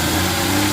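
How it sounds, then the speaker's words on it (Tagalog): A Suzuki minivan's K6A engine idles with the air conditioning on, a close, steady, throbbing rumble carrying a strong vibration, unbroken and without speech. "So ang problema, nanginginig, malakas yung vibration ng engine."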